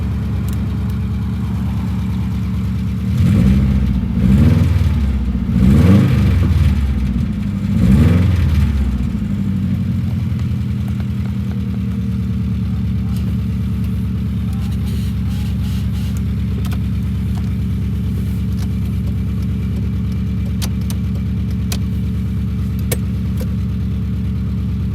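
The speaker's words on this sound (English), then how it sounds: "Guys, I'm just going to bring the car into the yard." Neglected Subaru Impreza WRX non-runner, just got moving with its clutch, driven into a yard: a low engine rumble swells in three short throttle surges near the start, then settles into a steady idle-like drone for the rest.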